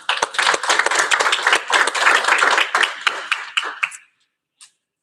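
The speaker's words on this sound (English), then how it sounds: "the graduates should owe the support staff and your friends and family a round of applause" Applause at an electrical maintenance graduation ceremony, with many people clapping steadily for about four seconds before it stops abruptly.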